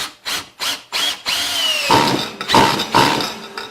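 A Ryobi 18V One Plus cordless drill driver drives a screw, opening with short bursts of the motor, then a long rising whine as the screw bites, followed by brief pulses of driving, loud and close.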